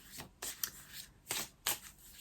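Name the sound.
shuffling and pulling a journey oracle card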